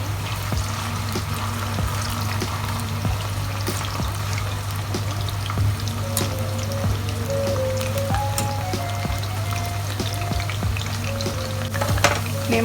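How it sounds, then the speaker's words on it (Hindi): Potatoes frying in hot oil over a high flame make a steady, dense crackling sizzle with scattered pops, close and even throughout, with a low hum beneath and no voices. "देखिए आपके आलूओं को फ्राई होते हुए"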